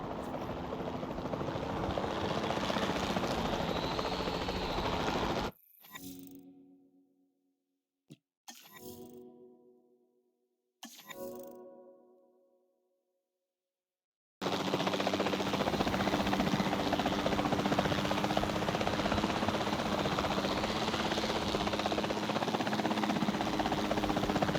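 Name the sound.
capture team helicopter flying, from video game Jurassic World Evolution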